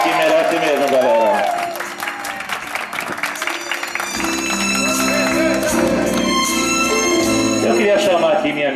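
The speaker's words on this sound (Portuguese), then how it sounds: "Pode bater palma que merece mesmo, galera." A crowd at a birthday surprise in Itaquera claps and cheers in bursts of applause, with loud voices and a microphone announcer talking over it throughout, sometimes with music.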